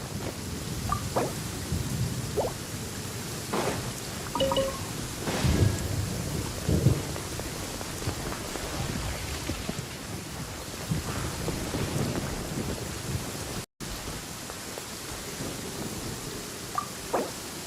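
Steady rain hisses under repeated low rumbles of thunder in the video game Genshin Impact, a dense, continuous storm bed with several distinct rolls and no talk.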